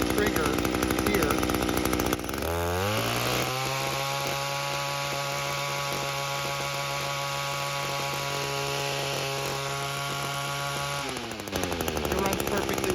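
String trimmer engine revving up to a steady high idle, a loud buzzing drone with a strong humming tone held for several seconds before dropping back down.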